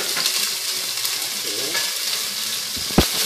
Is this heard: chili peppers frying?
yes